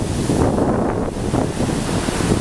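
Steady gusty wind roaring over Lamai beach on Koh Samui, with continuous surf washing underneath; loud and unbroken, no voices.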